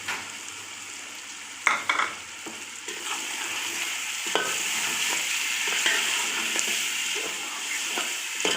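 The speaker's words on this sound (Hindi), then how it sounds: "अब इसको तकरीबन थोड़ा सा भूनना, 2 मिनट तकरीबन भून लिया तो मसाले को" Masala frying with red chili and a cup of yogurt for aloo tahari, sizzling steadily in the pot while a spoon scrapes and stirs with occasional louder clanks, no voices.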